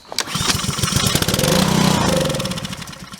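A Briggs & Stratton Craftsman small engine with a dirty carburetor catches on starting fluid and runs close by, a rough, loud mechanical chatter that swells for a couple of seconds and then eases slightly.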